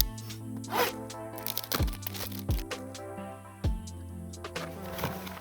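A French military 24-hour ration pack is torn and unwrapped up close, with rustling plastic packaging, a zipper-like rip and several sharp crinkling pulls.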